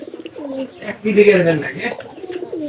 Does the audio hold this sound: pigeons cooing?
yes